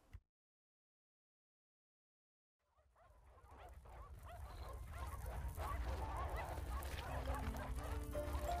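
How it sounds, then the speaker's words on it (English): After a long silence, a pack of stray dogs whines and cries, the sound swelling into a dense, continuous chorus that grows louder. "The stray dogs began to whine, fearful of the hulking figure before them."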